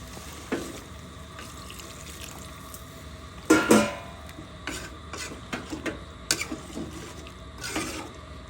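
Water poured into a pan of string bean, potato and shrimp curry, giving a brief splashing gush, then light stirring and scraping in the pot, close by and with no talk.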